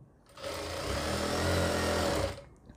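A sewing machine stitches a reusable cloth baby diaper in one continuous close run, its motor whirring up for about two seconds with a busy needle rattle before stopping.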